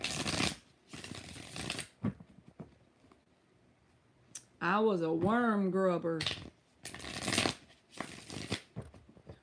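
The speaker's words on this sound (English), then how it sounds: "One more shuffle." Tarot cards being shuffled in quick crisp riffles, near and fairly loud, in short bursts at the start and end, with a person speaking briefly in between.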